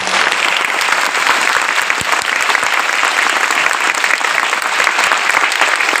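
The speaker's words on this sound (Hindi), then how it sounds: "जोर से ताली बजा देते हैं।" Loud, sustained applause from a church congregation during a Hindi Christian sermon, dense clapping filling the room steadily without a break.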